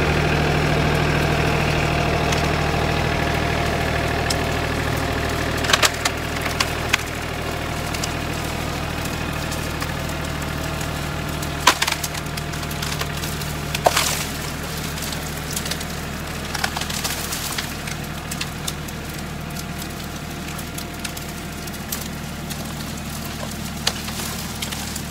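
An engine runs at a steady idle-like drone while pulling storm-damaged hedgerow wood away with a chain on a farm, with scattered cracks and knocks of branches over the continuous rumble.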